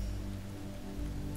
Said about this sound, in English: Look at the rain pouring down outside the fabric.